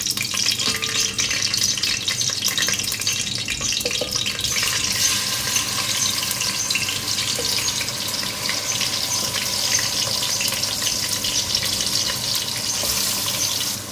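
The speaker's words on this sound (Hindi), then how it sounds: "ये मैरिनेट किया हुआ मटन डालूंगी इसमें।" Marinated mutton sizzles loudly in a pan in an Indian kitchen while being stirred, a continuous close hiss and crackle with occasional scraping.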